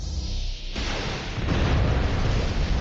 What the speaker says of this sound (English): Cannon is fully charged and ready on your mark. Fire!